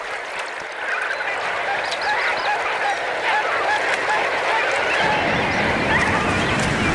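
A dense seabird colony of Cape cormorants on the Namib coast, with many harsh overlapping calls forming a loud continuous din that swells and stays busy throughout.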